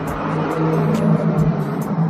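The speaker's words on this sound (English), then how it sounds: "I was letting the truck go by" A vehicle rumbling past at close range on a road, a steady loud low engine drone with broadband road noise throughout the short stretch, no speech.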